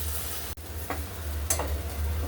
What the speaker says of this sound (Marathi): खोबऱ्याचा किस आणि शेंगदाण्याचं कूट मस्त परतलंय।